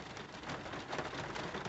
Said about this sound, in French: Comme vous pouvez entendre, il pleut aujourd'hui.